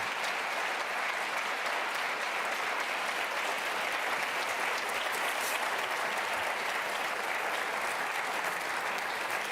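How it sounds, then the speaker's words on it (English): An audience applauds steadily after a closing statement at a Virginia attorney general candidate debate, the clapping dense, loud and sustained throughout without pause. "Let's give them applause, please."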